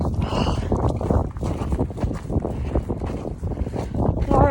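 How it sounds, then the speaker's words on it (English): Chilly wind gusting across a snowy crossing, a steady rough roar buffeting the microphone with a brief voice near the end. "Ooh, that wind is chilly."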